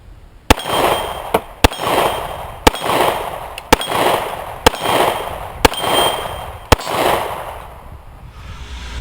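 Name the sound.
Kimber Ultra Carry II .45 pistol shots at 12 yards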